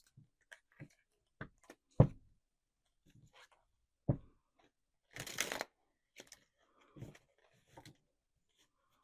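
Sparse, faint tarot card sounds: scattered soft taps and flicks, then one brief riffling burst in the middle, close by and quiet.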